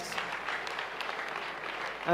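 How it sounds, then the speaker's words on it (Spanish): A church congregation applauds steadily throughout, a dense, moderately distant wash of clapping that holds an even level for the full stretch, with no talk over it. "Vamos a aplaudir a Jesucristo."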